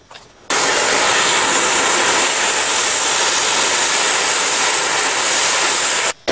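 A gas torch heats the pedal pivot points on an old go-kart, giving a loud, steady roaring hiss that starts abruptly, runs unbroken for nearly six seconds and cuts off sharply.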